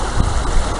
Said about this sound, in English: and still enjoy the sound of the water